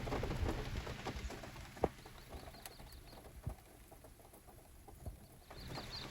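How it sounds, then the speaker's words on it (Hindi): Rain falls at night in the forest of Jim Corbett National Park, a faint, steady patter with a few sharper drops and knocks scattered through it, distant and without talking. "कि बारिश हो रही है"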